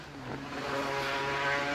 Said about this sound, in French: tiens, une petite moto qui passe